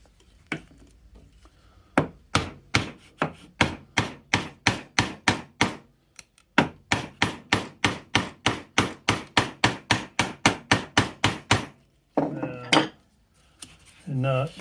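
A chisel chops out waste wood for hand-cut through dovetails, striking a piece at a time in a long, steady run of sharp, close, evenly spaced knocks, pausing briefly midway and ending with a few scraping, clattering sounds.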